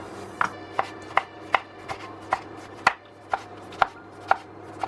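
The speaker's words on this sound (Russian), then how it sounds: "Также небольшими кубиками режу помидор." A knife dices a tomato into small cubes on a cutting board, about a dozen crisp, evenly spaced strikes, close and clear with no talking.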